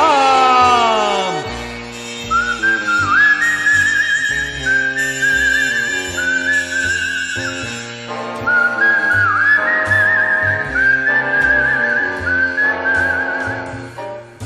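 A clear, melodic human whistle carries a tune for the whole stretch in a 1964 Czech song recording, loud and close with steady rhythmic phrasing over soft accompaniment.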